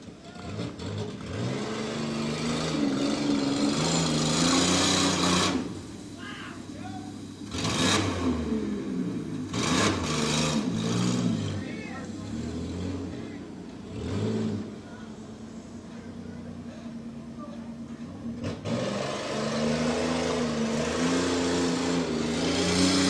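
A demolition derby car's engine cranks and revs, its loud rough drone rising and falling in bursts with brief drops, heard near over crowd and arena noise at the Fayette County fall derby.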